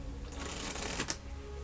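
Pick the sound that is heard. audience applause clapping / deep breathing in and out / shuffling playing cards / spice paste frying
shuffling playing cards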